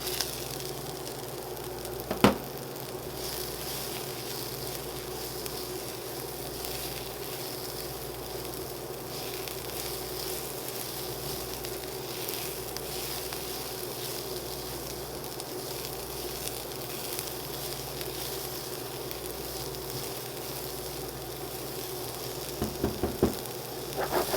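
Broccoli and carrots fry in a pan with a steady, even sizzle that runs unbroken throughout, close and moderately loud, with a couple of brief knocks of the pan at the start and end.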